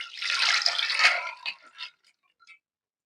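Water splashes into a pressure cooker holding soaked chana dal, a loud close gush for about a second, then a few trailing splashes and drips fading to quiet.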